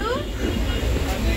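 Steady rumble and hiss of a moving passenger train heard from inside a coach, en route to Shirdi, continuous low-frequency rolling noise at a constant level for the whole moment with no clear speech.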